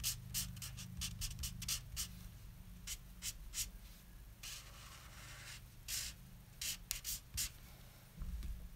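An inking brush strokes across absorbent paper for a Superman sketch, giving a series of soft, brief brushing swishes over quiet background hum.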